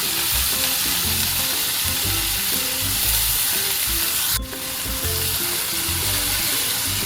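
Cluster beans sizzle and crackle in hot oil with golden-fried garlic as they are stirred in a pan, a steady loud frying hiss with stirring scrapes throughout and a brief dip partway through.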